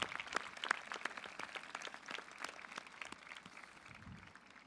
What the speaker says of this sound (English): a round of applause for Michelle